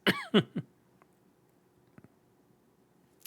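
A man gives three quick, sharp coughs close to the microphone in a quiet room, followed by faint mouth clicks and small throat noises.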